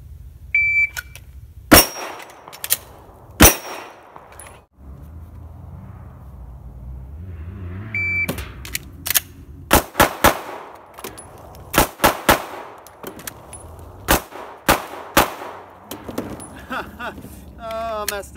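Sharp pistol shots with bright metallic rings from steel targets, fired in quick pairs and short strings, separated by pauses for reloads with faint handling clatter during table-start movement manipulation practice.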